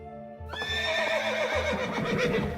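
A rearing horse gives a loud, close whinny that rises and trails off over about two seconds, with a few faint hoof-like thumps beneath it and no talking.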